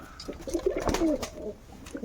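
Black-eyed Jira pigeons in a loft give a few soft, low cooing calls, close and moderately quiet, with a short break between the phrases.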